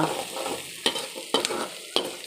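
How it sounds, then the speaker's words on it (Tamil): Green chilies sautéing in a pan, with a continuous close sizzle and a spoon stirring and scraping in three or four distinct strokes, no talking. "பச்சை மிளகா போட்டுட்டு இதை நல்லா என்ன செய்யணும், வதக்கணும்"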